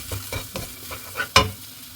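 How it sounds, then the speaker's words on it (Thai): Spices pounded with lemongrass, garlic and sliced shallots are stir-fried in a pot, giving rhythmic scraping stirs over a low sizzle and ending in one sharp clatter. No one speaks. "เดี๋ยวลงไปผัด หอม หอมแดงด้วย แบบซอยจ้ะ"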